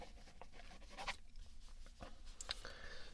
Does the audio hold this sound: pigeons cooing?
no